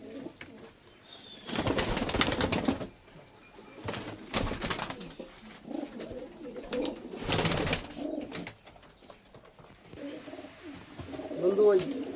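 Pigeons in a loft of fancy breeds such as Najra, Kaldum and Rampuri, with bursts of wing flapping and soft cooing, mixed with people talking nearby.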